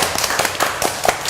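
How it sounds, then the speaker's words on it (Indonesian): Audience applause at a corporate event for an electric motorbike company, a short burst of brisk, close hand claps with uneven rhythm, no talking over it. "boleh tepuk tangannya"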